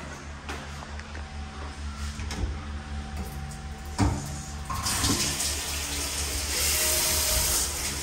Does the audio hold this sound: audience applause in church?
no